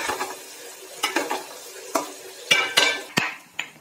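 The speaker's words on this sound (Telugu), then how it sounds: "ఇలా యాడ్ చేసి చక్కగా మిక్స్ చేసుకుని గోల్డ్ కలర్కి వచ్చే వరకు ఫ్రై" Onion stalks fry with fish in hot oil and get stirred until golden. A constant close sizzle is broken by several sharp scrapes and clacks of a spoon against the pan in an irregular rhythm, with no talking.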